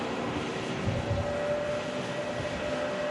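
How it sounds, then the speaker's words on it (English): A Turkish Airlines A321neo taxis at Manchester Airport, its engines producing a steady, even drone with a faint tonal whine at a moderate distance. "Turkish Airlines A321neo"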